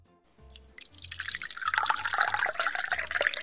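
Soda poured into a glass in a play scene with Barbie dolls, starting with a few faint drips, then building into a steady close fizzing gurgle as the glass fills, with no talking.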